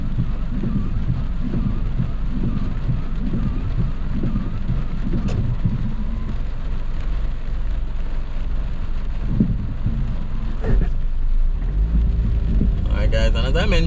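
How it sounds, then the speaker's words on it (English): Heavy rain falls on a flooded Molynes Road in Kingston, Jamaica, on a rainy morning, heard from inside a moving car: a steady, dense wash of rain over a low road rumble with a few sharp knocks. "just a quick glimpse of the rainy morning"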